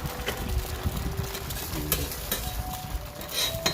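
Eggs sizzle in a hot pan while a utensil stirs and scrapes, with brief clinks of metal over the crackling fry.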